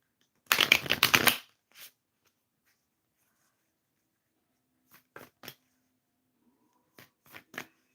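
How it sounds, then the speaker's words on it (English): A deck of tarot cards is riffled once in a quick burst, followed by a few soft, separate taps and flicks of cards handled close by on a lap. "I'm just shuffling the card here on my lap."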